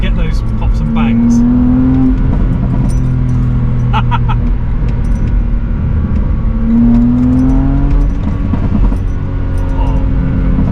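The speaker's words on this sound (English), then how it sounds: "feather the throttle just to get those pops and bangs" A BMW Z4 engine with a modified exhaust runs close by with a steady low drone, broken by a few sharp exhaust pops and crackles as the throttle is feathered.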